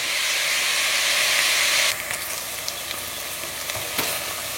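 Onions sizzle and fry with salt in a pan for a Goan pork vindaloo, a loud steady hiss that drops to a quieter crackle partway through, with occasional stirring clatter.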